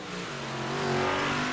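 Big Block Modified race cars howl around a track, their engines a loud, sustained, rising drone as several cars bunch together at speed.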